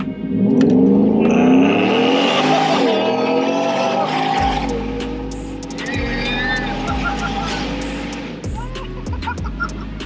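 A supercharged 2021 Ford F150 pickup with a 775 hp Whipple blower revs loudly and accelerates, its engine note climbing through rising pitch sweeps across several gear changes and ending in a few sharp shifts, with voices mixed in at times.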